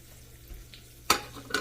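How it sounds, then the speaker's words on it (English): A quiet moment, then sudden sharp sizzling bursts as squash blossoms and squash rounds hit hot oil, crackling loudly and close up. "See how it's frying as soon as I put it in?"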